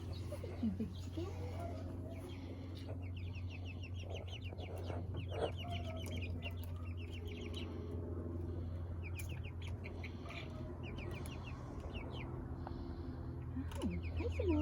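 Spring garden chickens cluck and chatter in a new chicken run, giving bursts of close clucks over a steady low hum, and a person talks now and then.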